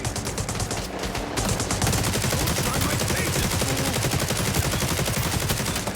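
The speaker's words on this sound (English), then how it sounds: "armor-piercing rounds on this gun. Okay, they did a good job with this Bison." The Bison gun in The Division Resurgence firing armor-piercing rounds in a fast, unbroken automatic burst, loud and dense gunfire crackling continuously for several seconds.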